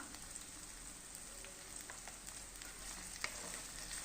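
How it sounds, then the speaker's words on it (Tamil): Onions sautéing in oil in a pan over medium heat for an onion-tomato thokku, giving a steady, close sizzle and crackle with faint stirring clicks and no talking. "மிதமான தீயில வெங்காயத்தை நல்லா வதக்கி எடுத்துக்கலாம்"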